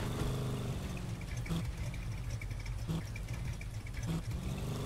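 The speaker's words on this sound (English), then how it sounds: "This is like the weirdest sounding like little toy car I've ever heard" An odd little toy car engine in the Vertical video game drones with a low, buzzing hum and a few brief bumps, steady and fairly faint.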